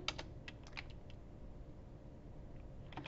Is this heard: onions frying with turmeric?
no